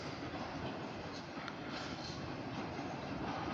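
A short OC&T freight train heads north past the Rynd Farm station, its rolling rumble steady and moderately distant, alone without talk.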